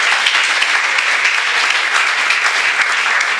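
A church congregation breaks into loud, sustained applause, a dense and steady wash of clapping hands filling the room without pause.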